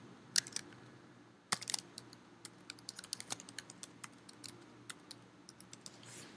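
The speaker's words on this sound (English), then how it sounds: "You just type in the name of the task list." Typing on a computer keyboard while entering a task list name in real estate CRM software: quiet, irregular key clicks, with a firmer tap partway through and the keystrokes coming in steady bursts, alone without speech.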